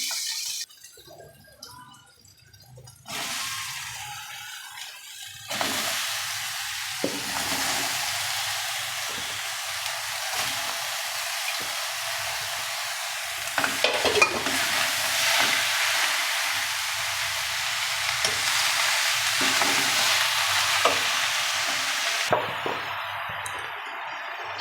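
Chunks of bottle gourd frying in a pan with spices, a steady broad sizzling hiss that carries on for the whole stretch, with occasional scrapes and knocks from stirring, close and even.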